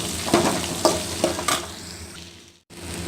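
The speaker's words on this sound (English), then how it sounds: "Fry this onion well" Onion fries in hot oil with mustard seeds in a pan, close sizzling with several stirring scrapes and clatters.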